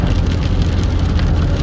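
Rain heard from inside a car in winter, a steady broadband hiss and patter on the roof and windows over a low rumble of the cabin, continuous and fairly loud with no talk.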